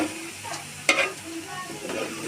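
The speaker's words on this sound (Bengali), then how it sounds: "চাল ডাল মাংসের সাথে ভালোভাবে ভাজা হয়ে গিয়েছে।" Rice, lentils, chicken and potato sizzle steadily in a hot pan, with a sharp scrape of stirring partway through and quieter stirring after.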